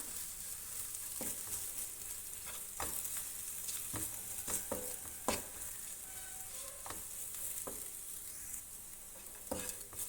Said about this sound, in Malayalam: ഇനി ഇതിലേക്ക് ഒരു 2 ടീസ്പൂൺ അല്ലെങ്കിൽ ഒരു 1/4 കപ്പോളം തേങ്ങ ചേർത്ത് കൊടുക്കുക. ഇതുകൂടെ ഇട്ടൊന്ന് റോസ്റ്റ് ചെയ്യാം.